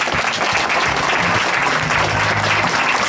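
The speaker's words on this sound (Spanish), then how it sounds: "Un fuerte aplauso para la compañera Susan King" A crowd at the inauguration of a drilled well in La Palmera, Sabana Grande, gives loud, sustained applause for Susan King, dense clapping filling the whole span.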